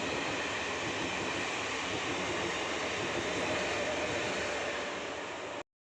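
A train rumbles past on the rails with a continuous loud roar and clatter of wagons, steady throughout before cutting off.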